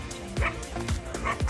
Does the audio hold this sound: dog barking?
yes